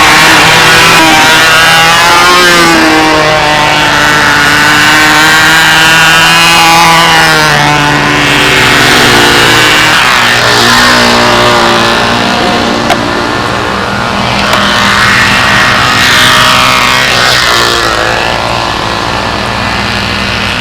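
A model airplane engine running rich on a practice flight at the windy 2001 Brodak Fly-In gives off a loud, continuous, raspy buzz. Its pitch rises and falls steadily as the plane circles, with no break.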